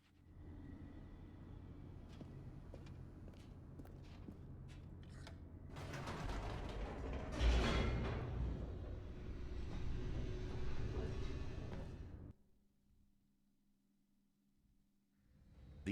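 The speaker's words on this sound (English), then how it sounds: "The elevator raced downward" An elevator descends in a narrative video game, a low mechanical rumble with creaking and grinding that swells to a peak, then cuts off abruptly into a faint hum.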